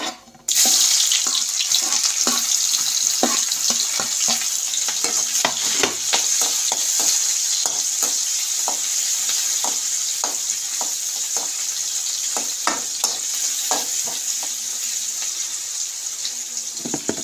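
Onions fry in a pan with a bright, continuous sizzle and hiss, broken by many irregular clicks and scrapes of stirring, close and steady throughout, with no talking.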